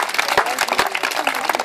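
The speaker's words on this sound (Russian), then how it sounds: "Аплодисменты Ульяне." Brief burst of clapping for a girl named Ulyana at a children's summer camp morning exercise session, dense and fairly close, with scattered individual claps standing out over about two seconds.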